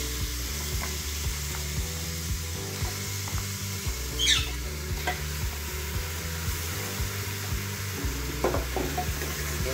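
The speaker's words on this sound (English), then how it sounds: "So ginger garlic paste and onion fry." Ginger garlic paste and onion sautéing for a mutton curry, a bright continuous sizzle with scraping stirs, a low steady hum beneath and a sharp clink partway through.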